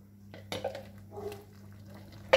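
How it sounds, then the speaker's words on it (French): Metal utensil scraping and clinking against a saucepan as food is stirred, a few scattered clanks over a steady low hum, ending in a sharper knock. "Je remue"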